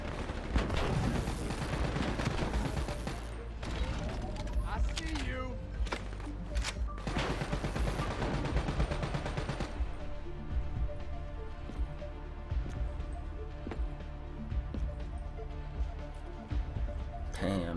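Gunfire in Call of Duty Black Ops 3 fills the opening seconds with dense rapid shots and booming impacts over a driving music track, then the shooting stops and only the music continues.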